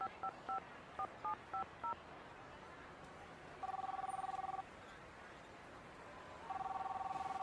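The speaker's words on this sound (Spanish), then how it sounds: "Me meto a una cabina y marca." A telephone number is keyed in a phone booth: quick DTMF tone beeps in an irregular run, then two longer steady tones, clear and close over faint hiss.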